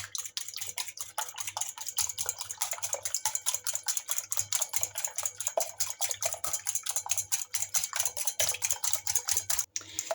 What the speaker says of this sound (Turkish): Karıştırma kabın içine kırdım ve şimdi içine 2 yemek kaşığı dolusu yoğurt ekliyorum. Şöyle iyice çırpıyorum.